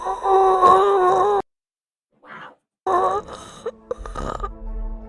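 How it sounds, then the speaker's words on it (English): A deep, droning, burp-like growl from the Bonnie animatronic audio in the Five Nights at Freddy's video game, loud and distorted, cutting off into silence before a brief low grumble and more strained, groaning bursts. "It sounded like a little bit of burping in there"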